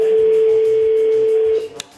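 A French telephone ringback tone on an outgoing call, one long steady electronic tone lasting about a second and a half, then cutting off abruptly, with soft background music beneath.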